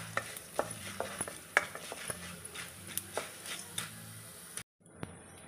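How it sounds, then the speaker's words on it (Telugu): Urad dal frying in a pan for ridge gourd chutney, with repeated scraping taps of a spatula over a steady low sizzle that cuts out near the end. "కొద్దిగా వేయించాక ఇలా కొద్దిగా వాసన వచ్చే వరకు వేయించుకుందాం"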